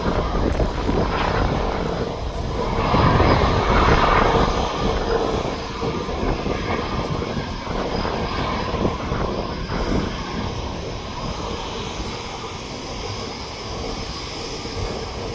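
Steady broad jet roar of an airliner rolling out on the runway at Manchester Airport, a continuous loud rush that swells early on and then slowly eases, heard alone without talk.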